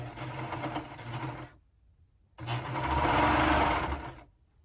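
A sewing machine stitches a sleeve to a shoulder seam in two close, steady runs, the second longer and louder, with a short quiet pause between them.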